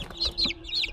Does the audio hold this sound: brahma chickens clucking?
yes